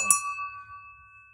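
A wooden mallet strikes an agogo bell once, giving a bright metallic ding that rings on as a clear, slowly fading tone in an otherwise quiet room.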